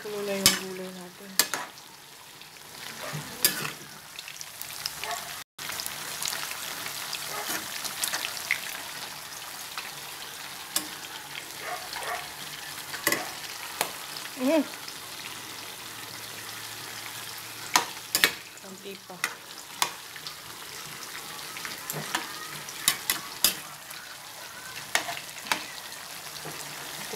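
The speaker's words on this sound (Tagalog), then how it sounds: "Kumukulo na yung gulay natin." Mixed vegetables sautéing in a pan for a Filipino ginisang gulay, with a steady close sizzle and frequent sharp scrapes and clacks of stirring throughout.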